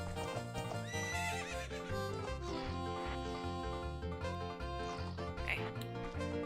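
A horse neighs and whinnies over a dense bed of music, with faint hoof clip-clop in the mix.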